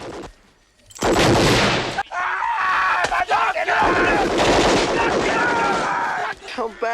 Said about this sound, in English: the gun sounds in this film are excellent. They have a lot of weight to them. And you can hear the ricochet almost